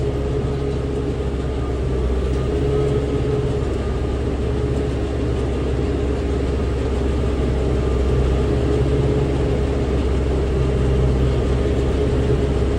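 A farm baler runs at low RPM at the start of a first cut in short crop, giving a loud, steady mechanical drone and rumble that holds constant throughout with no talk.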